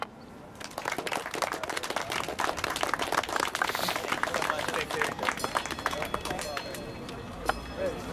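A crowd at an MBTA teach-in applauds after a series of speakers, a dense, steady wash of many hands clapping that carries through the whole stretch, with a loud isolated clap or thump near the end.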